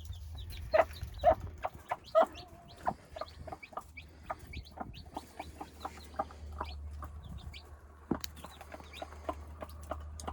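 Mother hen with her chicks in a coop: soft clucks and repeated high cheeps from chicks, close and quiet, with a low steady hum beneath.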